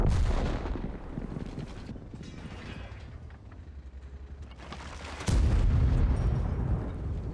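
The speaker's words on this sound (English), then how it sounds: "Ooh, artillery. Yes, we like artillery." Artillery fire in World of Tanks, with loud deep booms and rumbling impacts over steady battle noise and a sharp heavy blast partway through.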